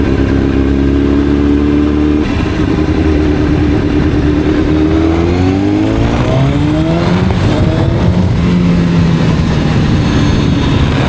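A 2007 Honda CBR 1000 Repsol Edition sportbike engine runs loud and close, its steady idle note rising into revs that climb and fall several times with no voices over it.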